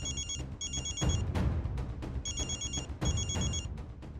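A telephone rings in repeated electronic trilling bursts during an outgoing call in a Marathi TV serial scene, clear and steady with short gaps between rings.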